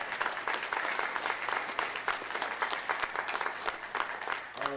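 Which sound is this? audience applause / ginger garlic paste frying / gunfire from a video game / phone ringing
audience applause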